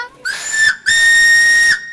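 Two loud, shrill steam train whistle blasts from the Arganda railway, a short toot followed by a longer sustained one, close and clear with no talking.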